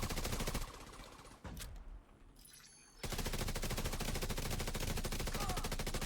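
Dense automatic gunfire from a Division 2 striker build erupts in loud, rapid bursts, drops away for about two seconds of quieter action and a single sharp shot, then resumes as sustained, heavy firing.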